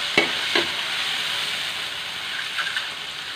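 Mackerel sardines sautéing in a pan, a continuous soft sizzle with a couple of sharp stirring clinks near the start and a few more later, close and moderately loud, with no one talking.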